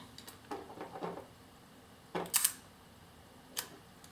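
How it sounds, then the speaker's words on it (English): A Zeiss Ikon Contina II camera clicks through its mechanism: a few faint mechanical ticks, then a sharp shutter release snap, and one more quiet click afterward in a quiet room. "And there you have the shutter release."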